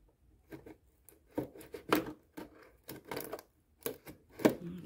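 Scissors snip through packaging in a quick irregular series of sharp clicks and cuts, fairly quiet and close, with brief pauses between.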